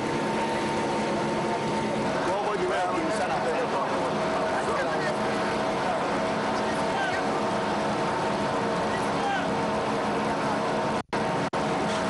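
An outboard motorboat engine drones steadily on a heavily loaded river convoy boat in Congo, a continuous loud hum that stays constant throughout, ending with a couple of brief dropouts.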